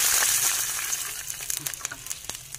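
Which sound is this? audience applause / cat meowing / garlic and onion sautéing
garlic and onion sautéing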